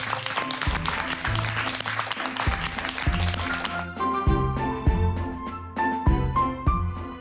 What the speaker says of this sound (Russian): Аплодисменты Людмиле Марковне.